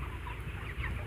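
Many broiler chickens, a 33-day-old flock of about 46,000, murmur and cluck together in a dense, low chorus in a closed-house poultry shed, heard at moderate volume.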